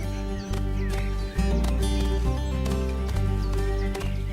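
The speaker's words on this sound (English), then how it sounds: "This region is home to an old Swiss horse breed," Freiberger horses, an old Swiss breed, are heard neighing with a few hoof clops in open countryside, set beneath a loud, sustained musical bed that carries through the short stretch.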